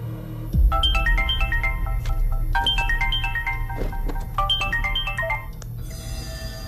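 A phone ringtone plays a bright repeating melody in two loud, clear phrases, close to the listener with no talk over it.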